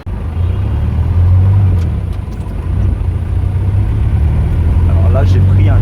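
A taxi rumbles through traffic with a steady low engine drone and road noise, a continuous close interior hum that persists throughout, with faint higher sounds of traffic outside.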